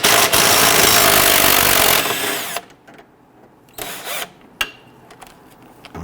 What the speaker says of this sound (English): we're going to use a 15mm wrench on the bolt side and a deep 16 for the nut